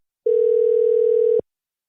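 A telephone call tone sounds as a single steady, clean tone lasting about a second, then cuts off abruptly. It is alone and fairly loud, with no talking.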